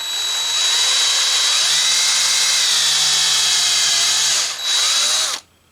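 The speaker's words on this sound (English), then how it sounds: "That was a quick extraction of screw." A power drill spins a severed screw out of old wood, a loud steady whine that dips in pitch as it bites and strains, then briefly eases, surges again and stops abruptly.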